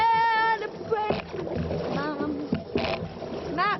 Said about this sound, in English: Everybody rowing. Now.